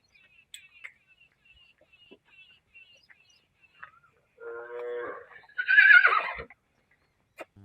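A horse or colt at a farm whinnies loudly once near the end, with earlier faint rustling and a few small knocks around it; no one speaks.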